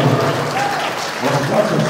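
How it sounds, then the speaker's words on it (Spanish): Loud, steady applause from a crowd at a wedding, clapping continuously throughout. "Venga, un aplauso entonces fuerte para la novia Reina Calderón."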